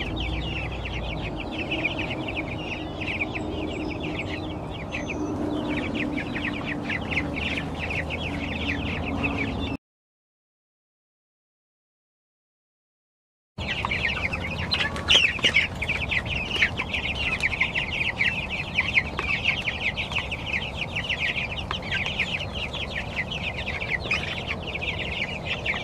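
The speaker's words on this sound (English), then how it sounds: "now it's time for these guys, the meat birds" Meat chickens on a farm cluck and murmur continuously in a steady flock chatter, with faint chirps mixed in and a short stretch of silence partway through.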